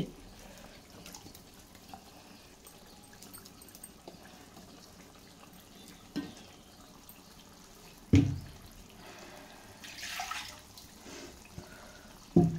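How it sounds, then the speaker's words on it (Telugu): Water is poured into a pan of masala for stuffed brinjal curry in short bursts, with a few splashes and clinks against a quiet kitchen background. "ఇదిగోండి దాంట్లోనే కొంచెం వాటర్ వేసి"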